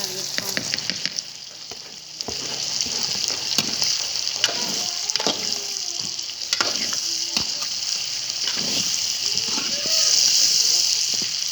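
Chicken neck meat frying with salt and chilli in a village kitchen, a steady close sizzle with repeated sharp stirring clatters and a louder hissing burst near the end.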